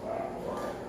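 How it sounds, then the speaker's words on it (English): Dogs bark upstairs in a dog-training school, the sound brief, muffled and distant, coming through from another floor. "There's a lot of barking going on upstairs"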